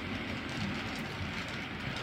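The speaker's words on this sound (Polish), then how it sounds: "Niech przejedzie sobie lokomotywa" H0-scale model train locomotive from a Piko/PKP-themed DCC layout, running steadily along the track with a continuous low rumble and light rail clatter, moderately near and fairly quiet, with no voices.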